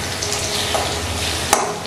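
Pointed gourd (potol) frying in oil in a covered pan; a steady, close sizzle with a brief sharp crackle near the end, no voices.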